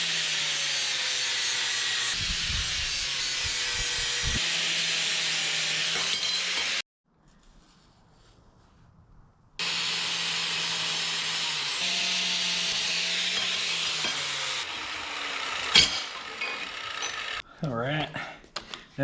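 Quarter-inch thick steel plates being ground for a 1967 Toyota Stout suspension repair, a loud sustained grinder whine that cuts out briefly then resumes, with a few bumps and scrapes near the end.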